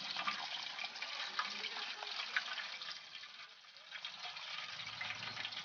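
Hot oil pours and trickles steadily out of the cavity of a fried turkey as it hangs to drain. The liquid runs in a faint, continuous stream with occasional small splashes and no speech.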